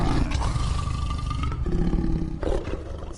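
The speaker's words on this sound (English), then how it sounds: "I was kind of wanting him to howl, but the roar works" A deep, growling creature roar from The Wolf Among Us video game, a bestial wolf-like monster bellowing loudly and continuously with shifting pitch, alone without any talk.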